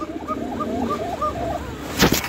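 A female pigeon or dove of a nesting pair sitting on eggs calls in a series of soft, wavering coos close by, ending with a brief burst of noise.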